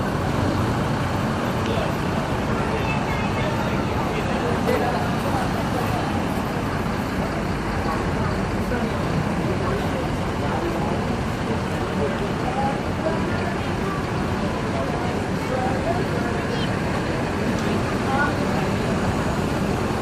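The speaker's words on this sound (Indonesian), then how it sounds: "Ya mobil Rio Amir siap diberangkatkan bis yang terbaru" An ANS bus departs from a busy terminal with a continuous, loud engine and traffic rumble that holds steady throughout, and voices are mixed into the noise.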